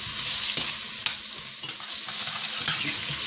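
Tomato paste cooking in a pan while being stirred, a loud continuous sizzle and frying hiss with a few soft scrapes of the spoon, close and without talk.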